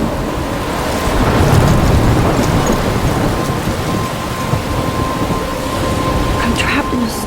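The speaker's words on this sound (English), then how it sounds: "I'm trapped in a storm?" Thunderstorm in the game Life Is Strange: a dense, continuous wash of heavy rain with low rumbling underneath and a few brief crackles, loud and steady throughout.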